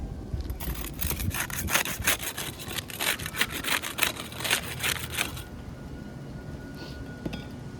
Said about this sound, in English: we'll get started with the putty knife. We'll use that to unseal the top shingle.